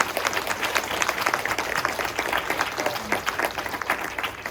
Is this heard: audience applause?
yes